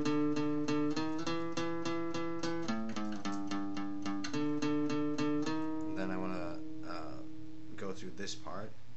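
A guitar tuned down plays the main riff from a song, steady repeated palm-muted notes and chords, loud and close, shifting to looser chord strums in the last few seconds.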